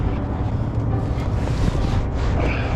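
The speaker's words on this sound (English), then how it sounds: "This is some crazy wind" Strong, gusty wind roars steadily and loudly throughout, buffeting the microphone with a continuous broadband rush and no speech.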